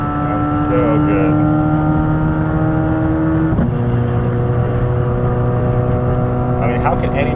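A Chevrolet Corvette C8 Z06 engine drones loud and close, then drops sharply in pitch as it downshifts partway through, settling into a deeper steady note with a faint rasp at the end.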